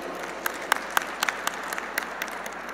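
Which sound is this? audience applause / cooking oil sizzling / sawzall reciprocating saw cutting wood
audience applause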